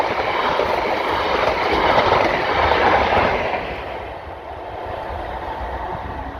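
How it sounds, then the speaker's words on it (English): A Network Rail HST test train passes close by on the line at Blythe Bridge, a loud rushing roar of wheels and engine that swells and then eases away, with no talking. "we're down here today for a test train"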